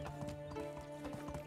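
A horse in the video game Medieval Dynasty trots across rough off-road ground, its hooves clip-clopping in a quick, steady rhythm close by, with a low hum of background music underneath and no talking.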